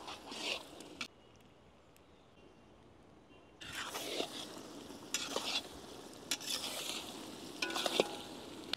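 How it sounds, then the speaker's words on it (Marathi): Mutton chusta being stir-fried in masala in a pan, soft sizzling with scraping and stirring strokes of a spoon that come in bursts after a quieter stretch, close and fairly faint. "दोन ते 3 मिनिटं आपण चुस्ता व्यवस्थित मसाल्यामध्ये परतून घेऊ"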